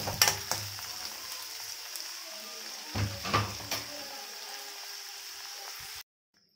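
Onions sizzle in a pan for a palak paneer, giving a steady frying hiss with a few louder crackles and stirring knocks. The sound runs for about six seconds and then cuts to silence.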